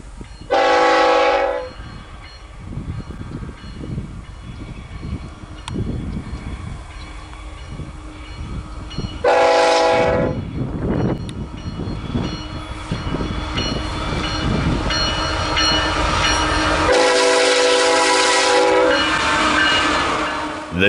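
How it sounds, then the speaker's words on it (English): A CN freight train led by GP9RM and GP40-2LW locomotives passes an open crossing south of Bircham on the Three Hills Subdivision, sounding three loud horn blasts over a steady rumble of rolling cars. "The two Geeps in the consist were GP9RM 7077 and GP40-2LW 9601."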